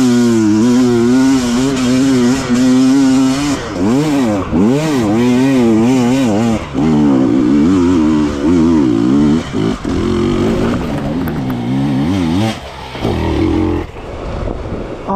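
A KTM enduro motorcycle revs hard during hard enduro training, its engine wailing and rising and falling in pitch as the throttle is blipped and held, loud and close throughout with no talk.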